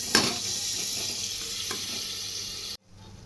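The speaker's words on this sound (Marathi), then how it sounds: "हे आता आपण व्यवस्थित हलवून घेऊया." A mixture for sambar is stirred in a hot pan, giving a steady sizzling hiss with a couple of scraping clicks. The sound then cuts off abruptly, leaving quiet.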